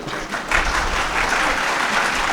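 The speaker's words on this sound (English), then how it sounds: "So, all the students are clapping." Students at a university event in Lahore burst into steady applause, a dense, continuous patter of many hands clapping at once, loud and close, lasting a couple of seconds without talk.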